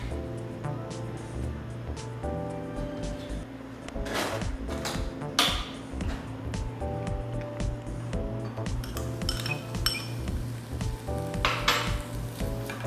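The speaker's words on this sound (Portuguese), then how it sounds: "Aí deixa o bacon fritando enquanto o leite tá fervendo" Bacon frying in a pan with just a thread of oil sizzles steadily and close, broken by clinks and scrapes of a utensil against the pan, with a low hum running underneath.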